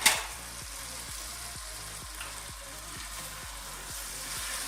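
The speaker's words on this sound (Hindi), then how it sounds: "ये आपने अच्छी तरह से बुनाई कर लेनी है ऑयल में।" Okra and chicken frying in oil give a steady, close crackling sizzle throughout, with a faint regular pulsing hum underneath and no talking.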